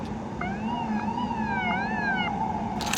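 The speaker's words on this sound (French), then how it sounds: "les vieilles sirènes là, de pompiers de New York" Old New York fire department sirens wail from a distance, several wavering, overlapping tones rising and falling in slow sweeps over a steady city hum, with no talking.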